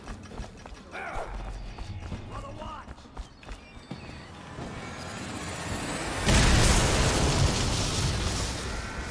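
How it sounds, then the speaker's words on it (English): A bomb goes off in the video game Dishonored as a sudden loud blast partway through, followed by a sustained roaring rumble, after quieter scuffling game sounds and some speech. "Bomb."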